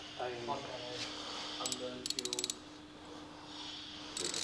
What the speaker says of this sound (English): we'll go ahead and swap out the spark plugs first and then we'll go from there